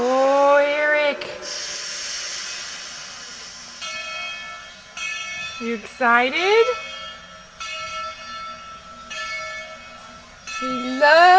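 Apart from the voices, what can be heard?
train leaving station, bell ringing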